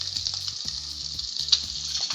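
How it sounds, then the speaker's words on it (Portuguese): Bacon fries in a pan for carbonara, a steady close crackle and sizzle with small pops and a faint repeating clatter underneath, and no talk. "Nosso bacon está aqui fritando"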